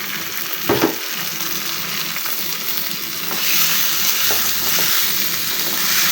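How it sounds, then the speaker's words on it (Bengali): Biran rice stir-fried with lightly fried onions in a pan: steady close sizzling and frying hiss with a few stirring scrapes, growing louder as the rice goes in, no talk. "পেঁয়াজটা একটু হালকা ভাজা ভাজা হয়েছে, এখন দিয়ে দেব চাউল"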